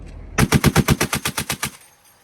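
An M240B machine gun fires a single close, loud burst of about eleven rapid, evenly spaced rounds on a training range, ending sharply and leaving a brief quiet tail.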